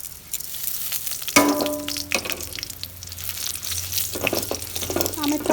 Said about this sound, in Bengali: এখন আমি কয়টা সরিষা দিয়ে দিচ্ছি